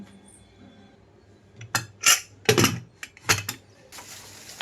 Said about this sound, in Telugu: ప్రెషర్ కుక్కర్ మూత పెట్టేస్తున్నాను